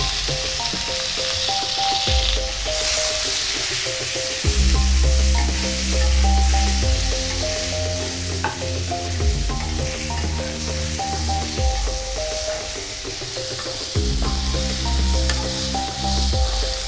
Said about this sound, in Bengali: পটলটা এপিট ওপিট করে লালচে করে ভেজে নেব